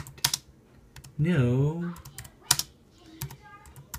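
Keys clatter on a new wireless keyboard bought from eBay, a crisp burst of quick, close taps around a voiced word, then sparser keystrokes that carry on to the end.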